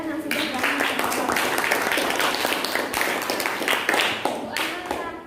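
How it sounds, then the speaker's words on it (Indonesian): Schoolchildren in a classroom applaud their classmates, a dense burst of rapid hand clapping starting abruptly and continuing loudly to the end. "Tepuk tangan untuk teman kalian yang sudah gabung di sekolah."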